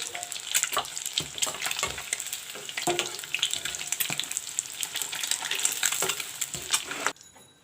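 Fried eggs crackling and sizzling in hot oil for a village-style egg curry, a continuous close frying hiss with clicks of a utensil lifting them out, ending abruptly.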